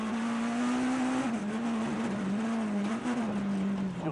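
Rally car driven hard through a stage of the 2013 Sibiu Rally, a steady loud engine note holding high revs with slight pitch dips and rises as it pushes through a corner with understeer, alone without talk.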